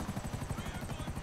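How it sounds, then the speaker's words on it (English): A Buzzard attack helicopter in the game GTA V flies with a steady rapid rotor chop and engine drone, continuous and fairly even in level throughout. "at least I have a helicopter"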